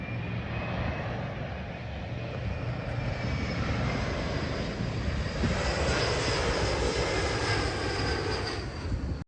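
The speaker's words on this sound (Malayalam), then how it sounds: "ഒരു ഫ്ലൈറ്റ് ലാൻഡ് ചെയ്യുന്നതാണ്," Airplane coming in to land at a nearby Toronto airport, a steady broad engine roar that holds through the whole stretch and swells slightly toward the end, heard outdoors with no talk.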